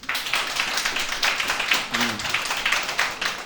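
An audience at a live comedy show claps and applauds, a dense steady patter of hands that carries on for several seconds with a brief voice murmuring partway through.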